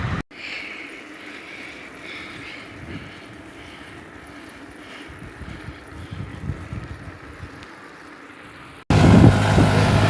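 Wind roars steadily across the microphone while cycling in the Sahara Desert between Wadi Halfa and Khartoum, a loud, constant rush that ends in a sharper, louder burst.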